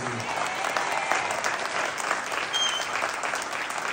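Dense, steady applause from a live comedy show audience in Berrechid, close and loud, filling the whole stretch with continuous clapping and faint crowd noise.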